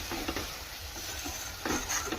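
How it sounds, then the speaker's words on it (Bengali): A masala of ginger, chilli and tomato paste with cumin powder is stirred and fried in a pan for an egg curry, a steady close sizzle under soft scraping of the spoon, swelling a little louder near the end. "এবার ভালো করে নেড়ে নেড়ে এটাকে কষাবো"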